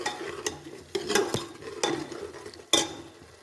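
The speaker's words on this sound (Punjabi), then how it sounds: "ਮਸਾਲੇ ਨੂੰ ਚੰਗੀ ਤਰ੍ਹਾਂ ਆਪਾਂ ਪਕਾਵਾਂਗੇ 5 ਤੋਂ 7 ਮਿੰਟ" A spoon stirs masala paste cooking in a pan for potato and chickpea curry, giving soft scraping strokes every second or so over a faint sizzle, close and alone.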